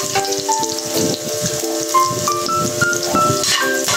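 Hot cooking oil sizzles steadily as garlic frying begins for a mackerel Bicol Express, a dense crackle running the whole time beneath a bright tonal melody.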